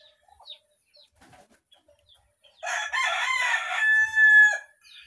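After a few faint sounds, a rooster crows once, loud and close, a long drawn-out call ending in a high note.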